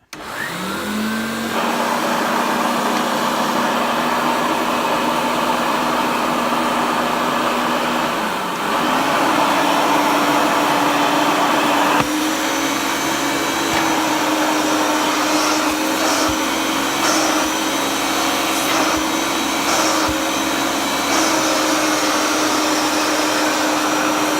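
A refurbished Hoover Turbopower UB088 upright vacuum cleaner motor roars steadily and loudly throughout, its pitch shifting slightly partway as it runs, with faint clicks and bumps near the end.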